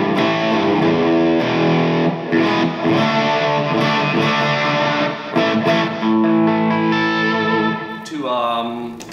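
A Godin electric guitar plays with a distorted, hard rocking tone, sustained chords and notes ringing loudly and steadily throughout, with a sliding flourish at the end.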